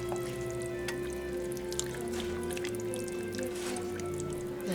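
Light red kidney beans tipped from a can into a pot of chili, giving soft wet plops, drips and squelches, quiet and close, with no talk.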